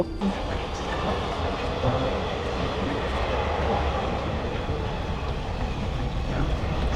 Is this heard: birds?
no